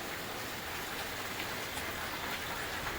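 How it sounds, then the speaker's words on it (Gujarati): Heavy rain pours down steadily in a dense, even hiss, with drops drumming on surfaces all around and no voices. "આજે તો સારો દિવસ છે ને વરસાદ છોતરા કાઢી રહ્યો છે"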